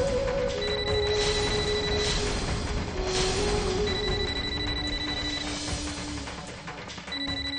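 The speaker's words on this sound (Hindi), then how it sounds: "इस वक्त किसका फोन हो सकता है?" A telephone bell rings repeatedly inside a home during a family drama scene, its bright tones clear against a steady background with no talking.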